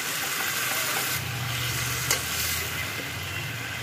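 Fried pakoras with onion and capsicum stirred in a pan of sauce, giving a steady close sizzle with scraping stir strokes throughout and one brief sharp knock near the middle.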